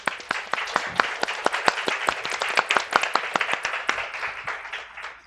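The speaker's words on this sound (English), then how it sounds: "please help us in welcoming the panelists with a round of applause" An audience at a Society panel discussion on covering North Korea applauds to welcome the panelists: crisp, distinct claps from a modest crowd, steady for about five seconds and fairly close.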